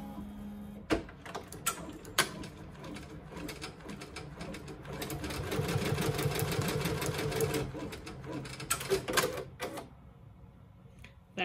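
A Ricoma EM1010 embroidery machine stitches an in-the-hoop Santa hand sanitizer holder, making a steady, fast rattling needle rhythm that runs for several seconds with a few sharp clicks at the start and end, moderately close and unaccompanied by talk.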